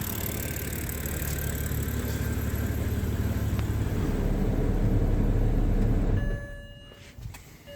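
A cheap BMW 330i with a coolant leak idles after its first startup, a steady low engine rumble holding evenly before dropping away sharply near the end, leaving faint clicks and no talk.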